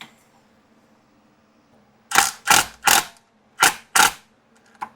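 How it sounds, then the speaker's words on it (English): A 13mm socket ratchet cracking loose the differential cover bolts on a 2005-2014 Mustang, five sharp loud clicks in two quick bursts after near silence. "get your 13mm socket, and we're going to take off the 10 bolts that hold it on"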